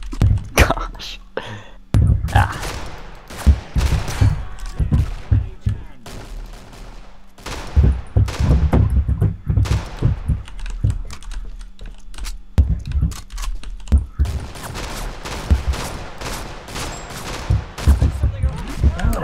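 Killing Floor 2 gunfire in repeated rapid bursts with heavy thumping shots, separated by brief pauses, mixed with keyboard clatter and occasional voices.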